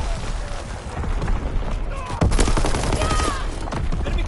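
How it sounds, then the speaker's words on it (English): Dense, continuous gunfire and explosions fill an enemy artillery barrage in the video game Call of Duty: WW2, with a loud blast about halfway through and a voice briefly heard under the din. "Incoming enemy artillery!"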